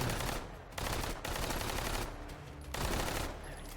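Bursts of SMG fire in a competitive video game match arrive as rapid rattling volleys, three long sprays split by short pauses, loud and close.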